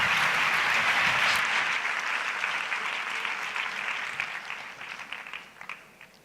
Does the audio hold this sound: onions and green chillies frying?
no